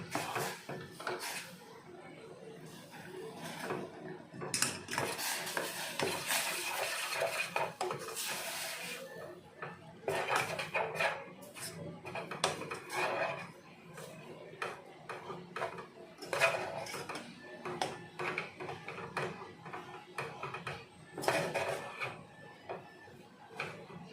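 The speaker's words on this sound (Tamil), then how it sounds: "இந்த மாவை இதில் போட்டு கிண்டிக்கிடலாம்." Murukku flour dough is stirred in a metal pan over a low flame, with a ladle scraping and knocking against the pan in irregular bursts, fairly quiet, with short pauses between stirring passes.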